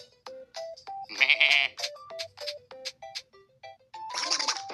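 Repeated sheep bleats from a game, a run of short wavering cries at steady intervals, loud and close, with a bright burst of game chimes in between and at the end.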